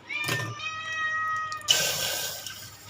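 Cats and kittens meow at home, several drawn-out cries following one another, close and clear, with a burst of running tap water in the background partway through.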